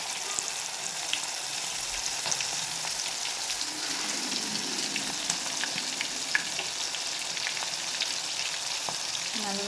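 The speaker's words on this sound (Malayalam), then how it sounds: "അതിലേക്ക് നമുക്ക് ഈ കൊഞ്ച് ഇട്ട് വറക്കാവുന്നതാണ്." Prawns shallow fry in hot oil in a pan, a continuous bright crackling sizzle with small pops and spits, close and steady throughout, with no talking.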